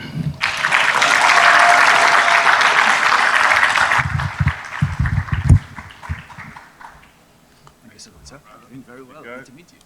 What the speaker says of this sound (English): I hope that you will join me in applauding as he comes to the stage this hour